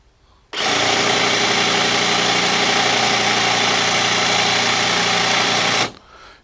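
A Makita DUN500WZ telescopic pole hedge trimmer runs at second speed, starting abruptly into a loud, steady, close motor whine that holds for about five seconds and then cuts off.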